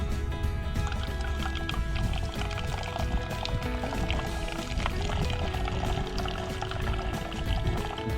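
Water flows steadily through a camping water filter at a campsite in wet weather, a continuous close trickling and gurgling that stays dense and unbroken throughout.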